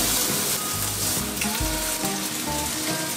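A wagyu hamburger patty fries in hot beef tallow, giving a loud, steady close-up sizzle with crackling spatters throughout and no voices.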